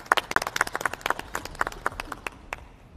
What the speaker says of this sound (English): Just want to applaud you and your effort bringing here to the stage today.